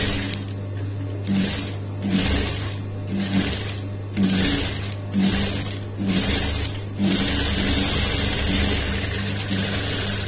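A sewing machine stitches a half-inch round neck on cloth in a tailoring class, running in loud close bursts with brief pauses, then whirring steadily toward the end.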